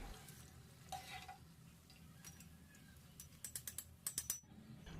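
Wheat flour and potato sticks fry in hot oil with a faint, soft crackle, followed by a quick run of crisp clinks and taps as the sticks are stirred and lifted from the pan.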